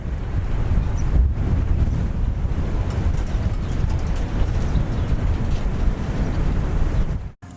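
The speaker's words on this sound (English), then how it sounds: "It's nice, it's windy though." Strong wind buffeting the microphone at a lakeside campsite, a loud continuous roar with gusty surges, close and unbroken until a sudden cut at the end.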